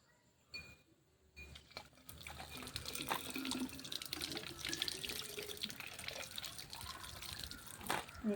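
Water pours into strained onion paste being made into an onion solution for driving off pests. After a quiet start, a running, splashing flow fills the container, with a few close clinks and drips.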